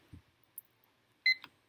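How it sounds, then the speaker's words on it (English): A kitchen timer, set for three minutes while brewing decaf green tea, gives a brief bright electronic beep near the end after a few faint clicks, close by in an otherwise quiet room. "Timer on."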